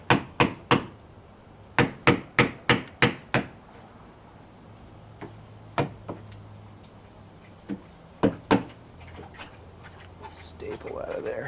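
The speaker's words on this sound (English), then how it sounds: "I'm going to finish off with just a wood chisel here" A wood chisel being struck to square off a corner in arcade cabinet wood during a Fast and Furious cabinet repair: a quick series of sharp, close taps, then sparser single knocks, with someone talking in between.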